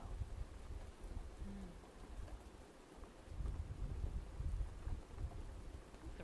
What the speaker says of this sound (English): The rain sounds are actually helping me to feel cool.